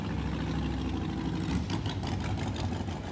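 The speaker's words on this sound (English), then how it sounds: "What a freaking engine." An engine running nearby on a hot day, a steady low rumbling idle that holds at constant loudness for the whole few seconds with no voices over it.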